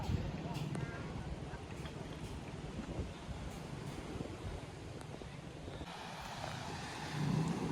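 Surf breaking at Bubujung beach in South Cianjur, a steady broad wash of waves with wind buffeting the microphone throughout and a louder surge near the end.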